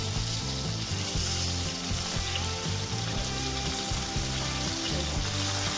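Brinjal frying in a pan, with ground green chili masala being added, gives a steady, close, loud sizzle that runs the whole time with no talk.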